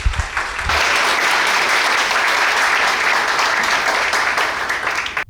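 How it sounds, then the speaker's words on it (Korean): An audience at a youth political network party in a hall applauds in a dense, steady burst of clapping that swells quickly, holds for several seconds, then tapers off at the end. "저희 이사장님께 박수 부탁드립니다."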